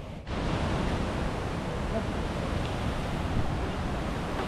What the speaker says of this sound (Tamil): தண்ணி ஃபோர்ஸ் நினச்ச மாதிரியே பயங்கரமாக இருக்குது.